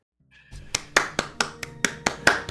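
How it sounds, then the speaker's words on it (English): A single person claps steadily in a room, about nine sharp, evenly spaced hand claps, close and distinct after a brief quiet start, with no speech. "Can we get a round of applause in the chat, please?"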